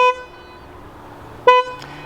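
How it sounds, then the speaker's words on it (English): Two short toots from a manual-transmission Toyota Supra's car horn, close and loud, the first brief and the second slightly longer, separated by a quiet pause with faint background noise. "The horn on these cars sounds ridiculous."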